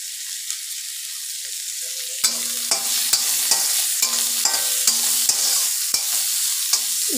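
Onions fry in a pan while a spoon stirs them, making a steady background sizzle with a run of sharp, regular scraping clacks from a metal utensil against the pan, near and fairly loud.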